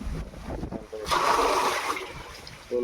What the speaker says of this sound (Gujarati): જો ટાંકી ભરે પાણીની